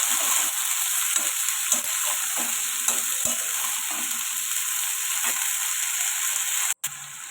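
Vegetables and salted hilsa fish sizzle in a pan with a little water added, while a utensil stirs through them in repeated scraping strokes under a constant bright frying hiss.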